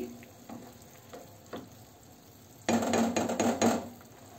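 Fried rice being stirred in a pan, a soft scrape and sizzle that grows louder partway through into a busy stretch of clattering stirring over steady frying.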